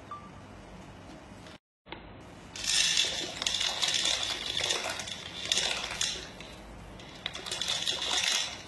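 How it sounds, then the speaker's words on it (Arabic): Dry pasta pours into a pot of boiling salted water, a brief clatter followed by steady bubbling, sloshing and splashing that stays close and moderately loud with no voices. "عندي ماي مغلي وملح، بنزل الباستا"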